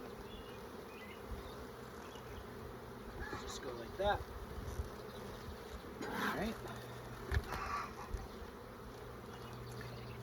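Honey bees humming around an opened hive box during a brood-box addition, a steady buzzing layer with occasional closer passes, while someone talks briefly over it along with a few handling clunks.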